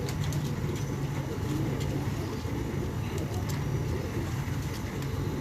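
A Kamgar breed pigeon at a breeder's loft coos softly in low repeated tones amid a steady murmur of background noise, with faint voices nearby.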